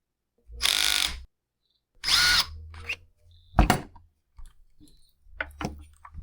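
A power driver works a screw loose on the tray of a Husqvarna 592XP chainsaw, two short close bursts of whirring followed by sharp clicks and small handling knocks.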